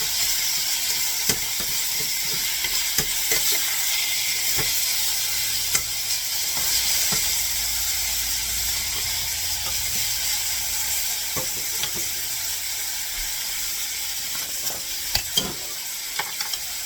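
Half a cup of Caesar salad dressing heating toward a boil in a pan, giving a steady, close sizzle and bubbling hiss throughout with occasional soft clicks and stirring scrapes, no talking.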